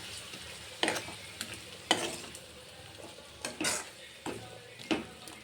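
Tomato puree frying in a pan for potato curry, with a soft continuous sizzle broken by a handful of sharp spoon-against-pan stirring knocks at irregular intervals, close and faint.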